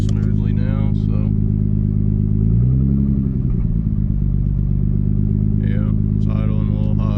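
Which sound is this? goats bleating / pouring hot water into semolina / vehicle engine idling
vehicle engine idling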